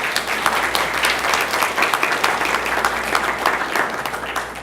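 A room of students and guests at a Lindsey Wilson College banquet gives a sustained round of applause, dense clapping at even loudness across the whole stretch.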